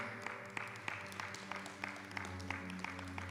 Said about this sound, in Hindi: क्या हम प्रभु के वचन के लिए धन्यवाद करेंगे ताली बजाकर